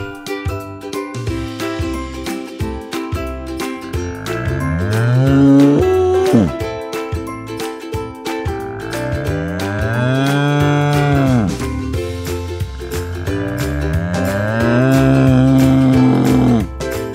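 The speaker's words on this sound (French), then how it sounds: "Vache." Repeated cow moos from a children's alphabet vocabulary lesson, loud and close, several long drawn-out lowing calls rising and falling over a musical background.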